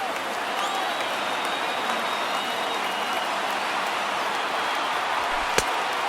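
A stadium crowd of about 25,000 rises and cheers in the baseball video game MLB 19 The Show, a dense, steady roar of massed voices and applause throughout, with one sharp crack near the end.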